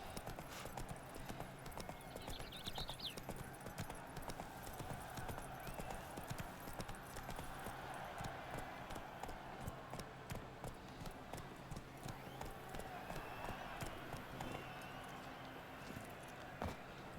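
Roach the horse gallops in The Witcher 3, a fast continuous clip-clop of hooves running steadily under ambient game sound for the whole stretch.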